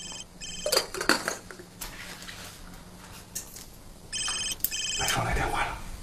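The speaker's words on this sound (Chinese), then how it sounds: "白霜来电话了，一定是兴师问罪了" A telephone rings in two bursts of bright, electronic, chirping tones, with a quieter gap between them. Voices and small household noises come from an indoor scene in a TV drama.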